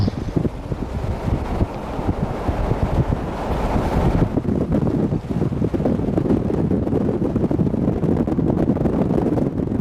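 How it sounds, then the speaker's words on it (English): Strong wind roars and buffets steadily against the microphone outside a moving car, a loud, rumbling rush with no pauses. "You can hear the wind outside the car."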